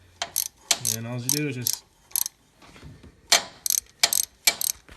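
A socket ratchet clicks in quick bursts as a 14mm socket tightens exhaust manifold bolts on a Chevy 350 engine, close and crisp, interleaved with a man's speech.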